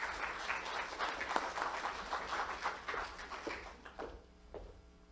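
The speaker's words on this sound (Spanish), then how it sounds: "Un fuerte aplauso, por favor." An audience at a university lecture on the foundations of democracy applauds, a full burst of clapping that thins and fades toward the end.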